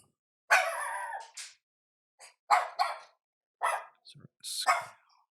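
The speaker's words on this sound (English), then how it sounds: "Don't mind my dog. She's barking at my kid." A female pet dog barks in short separate bursts and yips, close and fairly loud with silent gaps between, a few sharp whimper-like notes among them.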